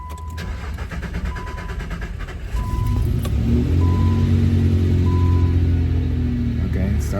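A car engine cranks over for a couple of seconds while fuel reaches the empty line, then catches and settles into a steady, loud idle rumble with a faint repeating beep in the background; a person speaks briefly near the start.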